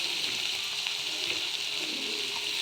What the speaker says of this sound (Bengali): সব একসাথে একটু সটে করে নেব